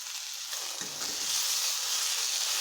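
Chopped tomatoes and masala sauté in a pan for a cauliflower curry, a steady close sizzle with a brief burst of stirring scrapes partway through, then the frying hiss swells slightly and holds.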